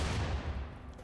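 Dense, continuous gunfire rattles as Imperial Guard troops shoot at a rocket-launcher-armed Chaos Dreadnought in RimWorld with a Warhammer 40K mod, a loud, unbroken barrage with no pauses.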